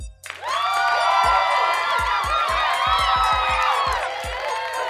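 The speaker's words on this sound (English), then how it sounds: "Round of applause, man." A crowd cheers and applauds loudly and continuously, with whoops and shouts rising above the clapping over a low rhythmic beat, tapering slightly at the end.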